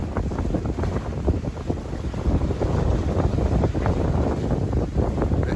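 A sailboat under sail with its engine off, moving at about seven knots, gives a steady rush of wind and water slapping against the hull, with heavy gusts buffeting the microphone.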